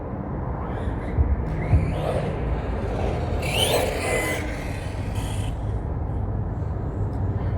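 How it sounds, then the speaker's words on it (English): Center differential in a Kodama RC car grinding as it beds in, a continuous rough rasping whir with shifting intensity and brief brighter surges, no voices. "So if you hear that grinding, that's the center diff still setting."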